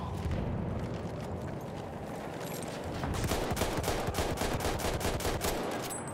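Sustained automatic gunfire from Battlefield 1 on PS5, dense rapid bursts rattling continuously at close range over a constant battlefield din, with no talking.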